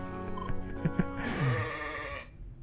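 Goat bleating in the video game CrossCode, a short series of wavering bleats rising to a drawn-out final cry that fades, heard alone amid faint game tones.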